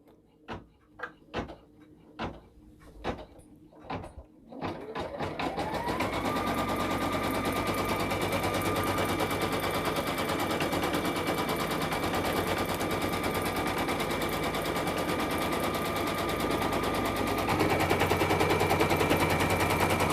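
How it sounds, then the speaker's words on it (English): An embroidery machine sews a placement stitch for the inner print fabric of a double-fabric appliqué iron-on patch, starting with a few sharp clicks and then settling into a steady, loud mechanical whir that runs on without pause. "my third step is the placement stitch for the inner fabric"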